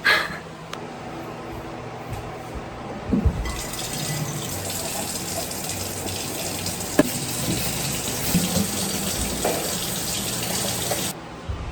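Tap water runs steadily into a sink for washing up at home, a continuous close gush with occasional clinks of dishes, cutting off near the end.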